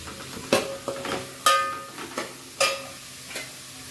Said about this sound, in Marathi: भाज्या सुद्धा छान अशा फ्राय होत आहेत.